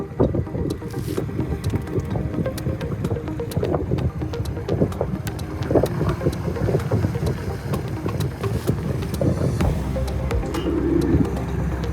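A 38 m Westport W125 yacht maneuvering toward a dock, a low rumble of engines and thrusters with wind buffeting the microphone, steady and close with occasional surges.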